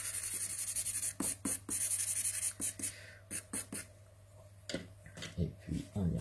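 Charcoal scratching across paper while shading the drawing of an eye, heard as a run of short, close strokes in rhythmic bursts with a steady low hum underneath.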